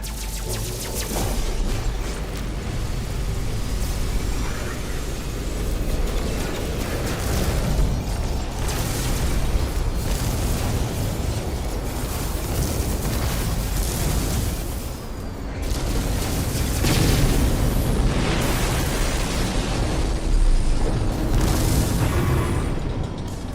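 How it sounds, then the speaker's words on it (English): Repeated missile explosions and booms from enemy fire in a space combat game, a dense continuous barrage of bursts and rumbling mechanical noise with no talking. "Enemy missile inbound."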